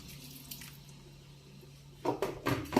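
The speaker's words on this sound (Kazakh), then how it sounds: "Осылай суымызды құйып" Water is poured into a cooking pot holding meat and leaves, a soft running splash that swells into louder, gurgling bursts near the end, with no talking.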